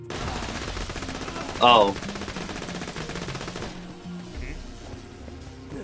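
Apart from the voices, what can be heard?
gunfire from a gun in the video game Borderlands 2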